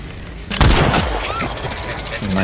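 The Deathslinger's gun firing in Dead by Daylight, a sudden sharp blast that follows a brief quiet moment and then rings out into a noisy tail of game effects.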